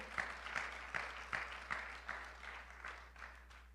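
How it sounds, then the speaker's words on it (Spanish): A church congregation claps for the Lord in a faint, evenly spaced rhythmic beat, roughly two claps per second, over a low steady hum, with no voices. "Dele fuerte el aplauso al Señor"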